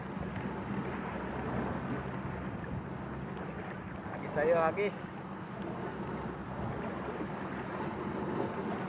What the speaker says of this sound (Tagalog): Bakas yung hangin ah.